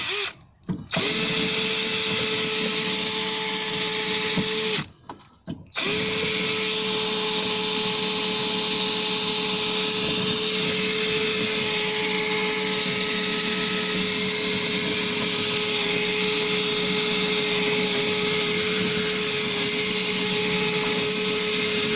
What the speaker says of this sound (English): So what you want to do is to drill the rivet out.